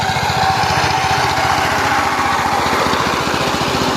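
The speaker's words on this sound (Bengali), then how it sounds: "এই যে আমাদের চাষের মেশিন, আমার ভাতিজা চাষ দিচ্ছে" A power tiller's engine runs hard while ploughing a field to prepare it for planting grass, giving a loud, close, steady rapid chugging throb with no letup.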